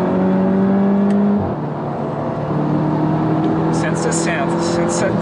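A Volkswagen GTI tuned with a JB4 pulls hard in third gear, heard from inside the cabin as a loud, steady engine drone with a rising tone, while people talk over it.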